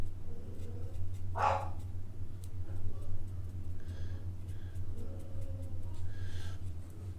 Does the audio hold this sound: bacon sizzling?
no